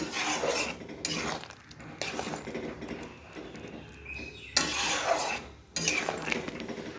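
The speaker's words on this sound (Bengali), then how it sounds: "দিয়ে এটা ভালো করে নেড়ে নেব।" A spoon stirs shukto, a Bengali mixed-vegetable dish, in a cooking pot, with steady rasping scrapes against the metal in several bursts broken by short pauses, close and loud, with no talk.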